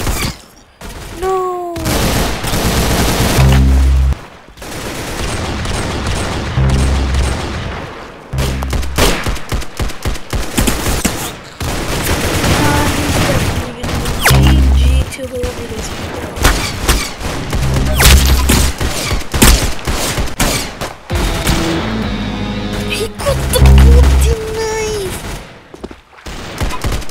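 Gunfire in the Roblox shooter Arsenal: loud, repeated bursts of rapid automatic fire and sharp shots in clusters, separated by short lulls, with occasional heavy thumps.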